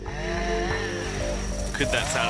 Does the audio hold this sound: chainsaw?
yes